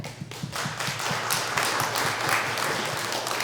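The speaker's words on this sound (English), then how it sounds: "just give a huge round of applause for all of the people, all the authors who are here" Audience at a book launch applauding the authors, a dense, continuous crowd applause with many hands clapping at once, fairly even in loudness, with a low background hum beneath it.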